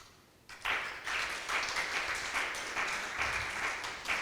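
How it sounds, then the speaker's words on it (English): Applause from a workshop audience at a Greek tourism event in Thessaloniki, starting abruptly after a quiet moment and continuing as uneven, pulsing clapping, moderately distant and fairly soft. "You hear the applause"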